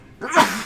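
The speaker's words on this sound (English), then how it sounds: "You always have 2-for-1 sneezes." A single sharp sneeze from a player during a tabletop Dungeons game session, rising abruptly and fading over under a second, close and fairly loud.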